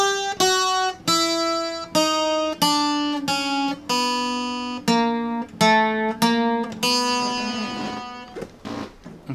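Requinto guitar plays a slow descending chromatic run from the fourth string down through the third string to an open second string, with distinct plucked notes ringing one after another, close and clear with no talking.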